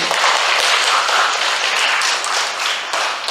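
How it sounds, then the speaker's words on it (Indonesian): Crowd applause at a patriotic poetry reading competition, a loud, continuous wash of clapping from many people, close and sustained with a few sharper individual claps. "Oleh karena kita kasih tepuk tangan."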